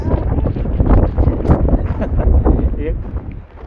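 Strong wind on a snowy day buffets the microphone in heavy gusts, producing a loud, rumbling roar that rises and falls.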